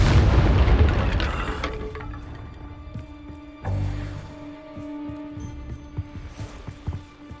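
A fiery blast spell goes off in a Hogwarts Legacy battle: one loud booming explosion at the start, fading into a rumbling tail with ringing tones, then a second thud and scattered smaller impacts and crackles.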